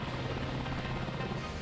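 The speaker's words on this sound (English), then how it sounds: "There's no pilot inside this helicopter." A military-grade helicopter flying with no pilot aboard, its steady rotor and engine drone continuous and fairly distant, with no voices.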